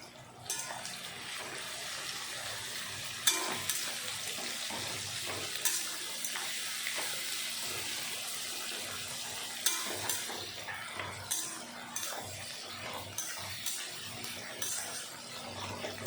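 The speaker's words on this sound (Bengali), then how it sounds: "এখন নেড়ে চেড়ে পেঁয়াজটা আমি ভেজে নেব।" Chopped onions salted and frying in a pan, a continuous close sizzle broken by repeated scraping and clattering as a spatula stirs them, with no one speaking.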